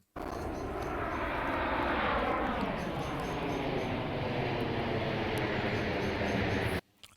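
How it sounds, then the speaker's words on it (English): Airplane sound effect track: a loud, sustained broadband engine roar that holds steady for several seconds and then cuts off abruptly. "The track that I have highlighted here is a plane sound"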